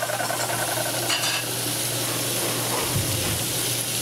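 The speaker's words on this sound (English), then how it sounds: "Just sear the meat real good." Beef tips searing in a very hot skillet, a dense continuous sizzle and hiss with a faint stir or scrape partway through.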